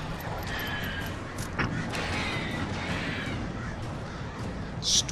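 Crows caw in the Alan Wake video game, harsh calls scattered over a steady ambient bed, one louder burst near the end.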